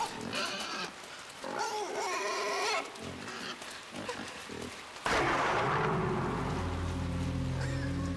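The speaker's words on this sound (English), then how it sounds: "Fuck off, pig!" Pig grunts and squeals from a video game, a run of animal calls over game sound, followed by a loud, sustained low droning tone with ominous music.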